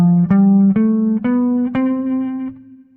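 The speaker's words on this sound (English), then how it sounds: "This is a scale kind of sound." A scale-based jazz line steps upward in four clear, bright notes on a pitched instrument, played close and loud, the last note ringing out and fading, with no talking.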